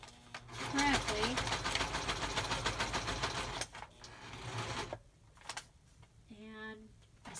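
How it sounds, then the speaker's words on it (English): A sewing machine runs in a fast, steady burst of stitching through paper up to the edge of a page in an 1800s-style junk journal, then stops, followed by quieter handling sounds and a short voiced moment. "And I sewed it right up to the edge."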